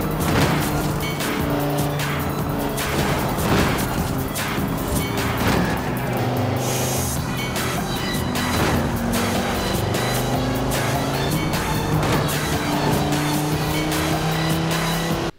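Cars in Forza Horizon 4 race along a highway, scraping against other cars: loud continuous engine roar with shifting revs, tire squeal and repeated sharp scraping hits, no talk.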